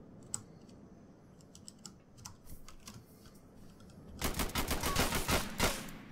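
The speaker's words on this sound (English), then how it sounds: "More shots fired down that way, Gunner?" Gunfire in Grand Theft Auto IV during a police building clear: a few faint, scattered shots early on, then a dense rapid burst of loud automatic-sounding fire in the last two seconds, with no talking.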